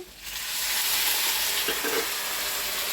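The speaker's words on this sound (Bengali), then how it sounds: "মশলা দিয়ে আর কাঁঠালের টুকরো অংশ দিয়ে মানে ভালোভাবে কষিয়ে নিয়েছি এখন জল দিয়ে দেবো" Sizzling spiced raw jackfruit curry hisses loudly after a quiet start, a dense, close frying crackle that swells and holds steady, with brief bubbling bursts as water goes in.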